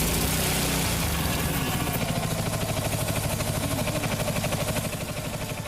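A farmer's tractor engine idles steadily at a farmers' protest, a continuous low rumbling chug heard fairly faintly and alone, with no talking over it.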